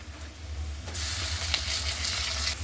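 Onion and dal sautéing in a pan as tomato goes in, a steady bright sizzle that swells after the first second and holds on, close and unbroken with no talking.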